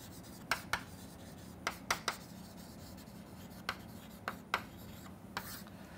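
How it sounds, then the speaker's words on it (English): Pen or marker strokes rub and tap steadily across a writing surface while a problem formulation is written out, with short scratchy strokes over a low background hum. "I would just do it by writing in the middle"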